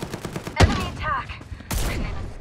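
Gunfire in the video game Farlight, a few sharp shots and short bursts cracking close by in quick succession.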